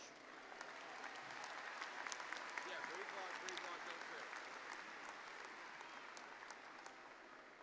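An audience applauds graduates at a university spring commencement ceremony. The clapping is steady and dense, holds evenly throughout and sounds somewhat distant in a large hall.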